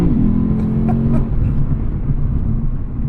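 A 2020 Lexus RC F Track Edition pulls hard in second gear, its engine a loud, steady low drone heard from inside the cabin, with no talk over it.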